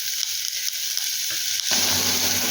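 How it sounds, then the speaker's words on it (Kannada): Sweet corn kernels sauté in hot oil for a ragi soup, a steady close hiss and sizzle with soft stirring scrapes that swells louder and denser partway through, no voices. "ಸ್ವೀಟ್ ಕಾರ್ನಿಗೆ ಇದೇನು ಚೆನ್ನಾಗಿ ಫ್ರೈ ಆಗಬೇಕು ಅಂತ ಏನಿಲ್ಲ, ಜಸ್ಟ್ ಎಣ್ಣೆಯಲ್ಲಿ ಹುರ್ಕೊಂಡ್ರೆ ಸಾಕು"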